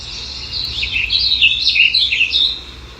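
Several birds sing with bright, busy chirps and warbles through the whole stretch, fairly close and steady, with no voices over them.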